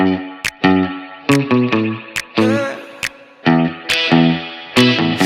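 An instrument runs through a Waves Voltage Amps amp plugin preset, producing distorted, effects-laden chords in choppy stabs with sudden stops and restarts, thick with harmonics and some chorus-like shimmer, loud and alone.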